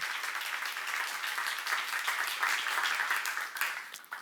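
A church congregation applauding at a seminar, many hands clapping in a dense, even burst that continues for a few seconds.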